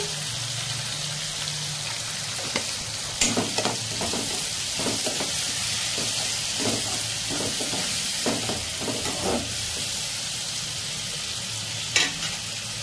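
Tomato and amaranth curry frying in a pan with turmeric and salt, giving a steady close sizzle broken by several sharp clinks and scrapes of a stirring spoon.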